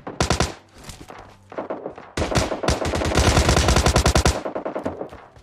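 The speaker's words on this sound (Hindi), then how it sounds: "यहाँ पे काफी बढ़िया शॉटगन चल रही है" Rapid gunfire in PUBG Lite, loud close bursts of repeated shots in several runs with short gaps, the longest stretch sustained for about two seconds.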